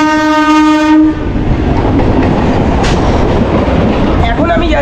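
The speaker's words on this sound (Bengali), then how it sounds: "এখন আমাদের ট্রেন ছেড়ে দিল নয়াটি স্টেশন দিয়ে।" A train pulling out of Nayati station sounds a loud horn for about a second, then the close, steady rumble and clickety-clack of the moving carriages takes over.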